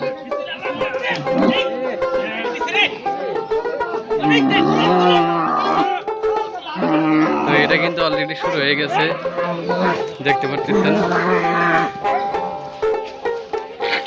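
Several loud, drawn-out moos from cows close by at an Eid al-Adha sacrifice, overlapping with someone talking and crowd chatter throughout.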